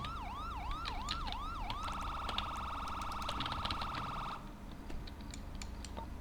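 A police siren in the game FiveM gives a rising and falling wail that repeats several times, then switches to a steady high electronic tone that cuts off, leaving a low background hum.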